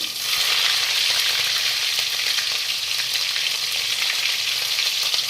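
Garlic paste, ginger paste and finely chopped green chili frying in hot oil give a loud, steady, dense sizzle that stays close and constant with no talking.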